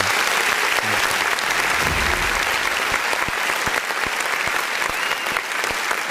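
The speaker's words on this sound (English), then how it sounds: "let's go ahead and give a nice clap for President Trump. We're going to give him an applause" Dense audience applause fills the whole stretch, loud and continuous with a few sharper individual claps standing out from the crowd.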